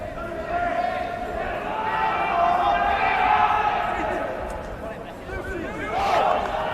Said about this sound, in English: I thought we were going to have a quiet crowd tonight, but they all seem to have appeared from the bar just before kick-off